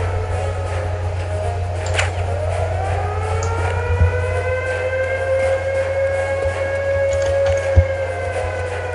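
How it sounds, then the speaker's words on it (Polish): An air raid siren in the shooter game Return to Castle Wolfenstein wails with a slowly rising and falling pitch over a steady low hum, with occasional thuds and small noises, and no talking. "już syreny"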